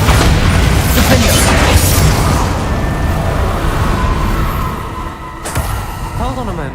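Spells Confringo and Bombarda cast in Hogwarts Legacy: loud booming blasts and crackling bursts with mechanical clatter, a sharp crack near the end, and a voice speaking over the action.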